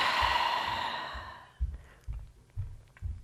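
A long, breathy exhale fades out slowly during a full-body stretching routine, followed by soft, rhythmic low thumps of movement, close and quiet with no talking.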